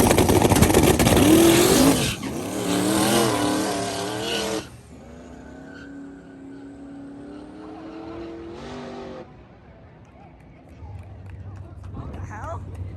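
No-prep drag race cars launching and running on a slick, slippery track: loud engine roar and tire noise at first, then a sustained rising engine drone fading, with voices talking over parts of it.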